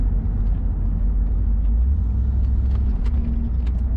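A 1988 Chevrolet Camaro IROC-Z convertible drives steadily with the top down, a deep engine rumble and broad open-air road noise, with a few faint rattles and clicks on top.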